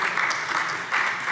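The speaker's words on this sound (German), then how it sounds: "Für Sie mal einen herzlichen Applaus und herzliches Dankeschön dafür." A brief burst of applause fills a state parliament plenary chamber as members thank the stenographers, a steady moderate patter of many hands lasting just over a second.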